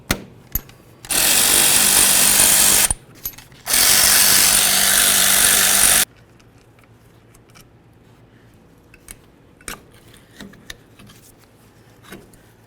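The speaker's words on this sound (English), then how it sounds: "go ahead and remove our caliper to caliper slider bolts" A power tool zips out the brake caliper slider bolts on a Chevy S-10 rear axle, two loud sustained buzzing bursts of about two seconds each, followed by quiet ticks and clinks of parts and tools.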